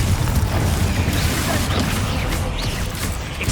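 Continuous loud booming blast noise from Confringo fire spells in Hogwarts Legacy, dense low rumbling bursts filling the whole stretch with no pause.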